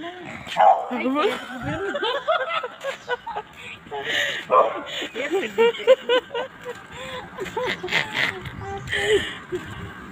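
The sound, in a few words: dog barking in a parking lot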